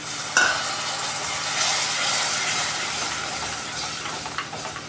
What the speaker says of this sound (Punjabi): ਤੜਕਾ ਸਾਡਾ ਭੁੱਜ ਗਿਆ ਹੁਣ ਅੱਧੀ ਕੋਲੀ ਪਾਣੀ ਪਾਵਾਂਗੇ